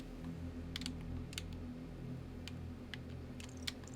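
Quick light clicks of computer keyboard buttons being pressed, scattered irregularly over a steady low hum of game background sound with water, no talking.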